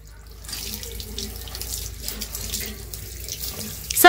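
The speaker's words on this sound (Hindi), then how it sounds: "इसलिए सब जगह में पानी डाल रही" Water poured around a tiger enclosure to cool the animals in summer heat, a steady splashing pour running for several seconds at moderate level, with a brief louder clatter at the end.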